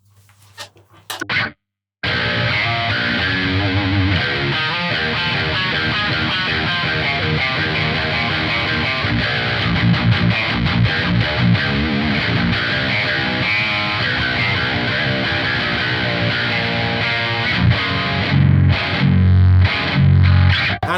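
Mesa Engineering Road King guitar amp on channel 3, giving a heavily distorted, aggressive tone with strong bottom end, played loud and continuous after a brief pause at the start, with no talking.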